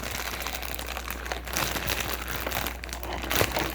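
Plastic packaging of a kinetic sand set crinkles and rustles continuously up close as it is pulled and worked open by hand, with no voices.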